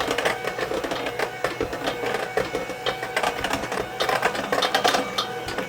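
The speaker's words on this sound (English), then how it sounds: "And slowly mix it in." An electric mixer slowly blends ingredients in a steady, close, continuous whir full of rapid rattling clicks, with no talk.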